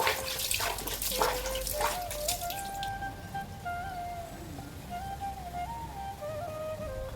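Running water from a tap splashes onto soapy vessels as they are washed at a sink, with a burst of clattering and splashing early on. A thin, steady trickle follows, close and fairly quiet.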